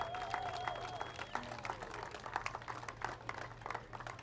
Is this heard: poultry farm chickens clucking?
no